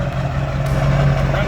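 Custom truck engine idling low and steady right after starting, a loud, close rumble with a sustained low hum; faint talk may sit beneath it.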